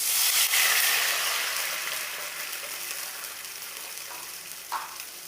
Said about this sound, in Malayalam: ഇനി ഇതിലേക്ക് തേങ്ങാപ്പാൽ ഒഴിച്ച് കൊടുക്കാം